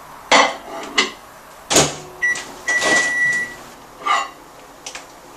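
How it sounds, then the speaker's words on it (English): Microwave oven being set and started to melt a plate of green candy melts, a few sharp clicks and thumps of the door and keypad followed by a short electronic beep, close and clear. "I'm going to put them in the microwave for about 1 minute."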